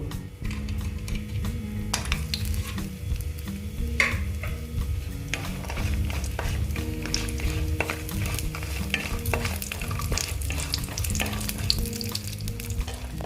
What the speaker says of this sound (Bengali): আগে আমি বড়িটা ভেজে নেব